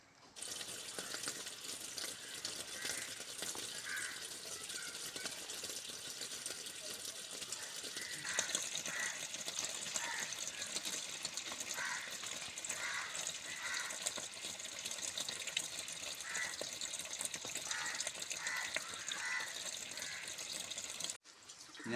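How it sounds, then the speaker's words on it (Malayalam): Water pouring from a pipe into a fish pond, a continuous splashing gush that grows a little fuller partway through, close and steady with no talking. "ഇനിയിപ്പോൾ പൈപ്പ് ഓണാക്കി വെള്ളം പിടിച്ച്"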